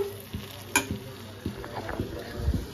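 Rice and lentils being sautéed in a pan for khichuri, a low sizzle with several spaced scraping stirs and one sharp clink of the utensil against the pot, close by with no talking.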